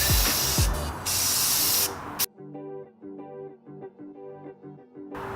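An aerosol can sprays paint onto Nissan 350Z window switch bezel trim in close, loud hissing bursts, followed by a quieter stretch after the spraying stops.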